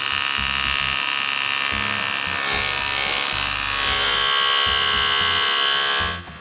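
A loud, continuous miter saw grinds through aluminium with a harsh, rasping whine that holds steady for several seconds, then cuts off abruptly at the end.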